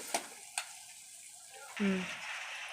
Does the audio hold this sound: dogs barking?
no